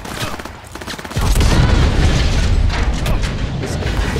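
Rapid automatic gunfire from a gun in Cyberpunk 2077, a loud sustained burst of booming shots with mechanical clatter, starting after a quieter lead-in and continuing to the end.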